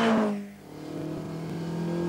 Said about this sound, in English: if you drive with the window down a little, you hear the intake roar from these carburetors